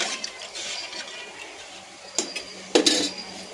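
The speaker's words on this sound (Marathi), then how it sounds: "ही आपली डाळ मी शिजवून घेतलेली टाकते." Cooked dal goes into a pan of roasted dal dhokli base; a steady soft hiss runs beneath, broken by two sharp close metal clinks of a spoon on the pan near the end.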